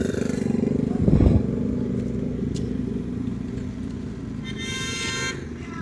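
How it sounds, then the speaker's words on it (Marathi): A vehicle speeding along a road, a loud engine pass with a brief rough roar near the start, then a steadier motor hum and a short horn-like toot near the end. "असं भरधाव वेगामध्ये हे वाहन आलेलं आहे पहा"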